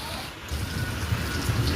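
Steady rain falls on flooded farm fields at sowing time, a dense continuous hiss with low rumbling patter that grows slightly heavier after the first half second.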